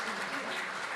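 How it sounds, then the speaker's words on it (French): A large audience at a Japan–Africa public-private economic forum plenary session claps steadily in a dense, even wash of applause that fills the whole moment without letting up. "Mesdames et messieurs, je vous prie de les applaudir."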